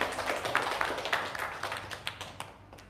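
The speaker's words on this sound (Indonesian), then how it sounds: "Boleh tepuk tangan Ibu dan Bapak?" Light clapping from a modest seated audience at a talk, scattered hand claps of moderate loudness that thin out toward the end, no voices heard.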